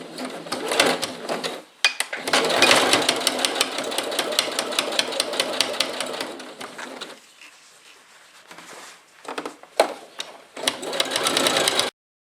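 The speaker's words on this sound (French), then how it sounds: "on va piquer la fermeture à glissière avec cette partie et le vêtement" A sewing machine stitches a hidden zipper onto a pillow cover in rapid close-up bursts, with a long run, pauses, then shorter runs of fast needle chatter, no voices.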